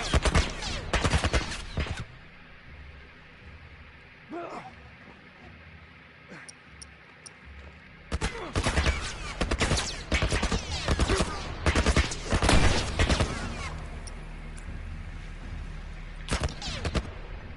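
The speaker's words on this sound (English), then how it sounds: "You're gonna shoot this guy. Some kind of military turret." A military turret fires in The Last of Us in loud, rapid automatic bursts. A dense volley opens, then come a few scattered pops during a lull, and longer heavy bursts roar close and harsh.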